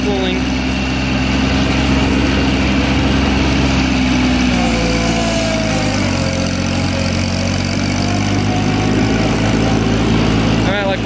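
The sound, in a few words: 1988 John Deere 322 liquid-cooled garden tractor engine running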